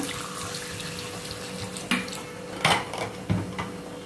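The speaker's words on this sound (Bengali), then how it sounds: "তো এখন দিয়ে দেবো জলটা" Water is poured into spiced masala in a cooking pan and splashes close by, with a steady wash of sound and several brief clatters of the pot.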